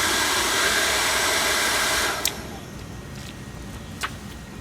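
A hair dryer blows air onto a small fire being started for blacksmithing, a loud steady roar that cuts off abruptly after about two seconds and leaves a quieter hiss with a couple of sharp clicks.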